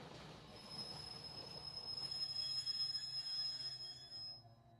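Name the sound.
black train arriving at platform, horror story sound effect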